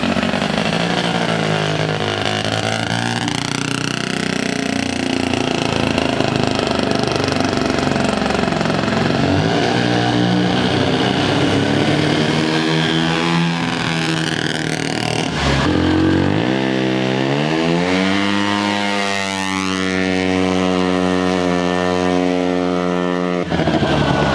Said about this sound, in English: We got the rotary warming up in the background.